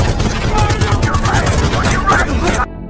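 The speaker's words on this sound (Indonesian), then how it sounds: "secara otomatis baku tembak pun meledak di gedung tersebut." A film shootout breaks out inside a building, a dense, loud fusillade of rapid gunfire and sharp bursts that continues steadily before cutting off abruptly at the end.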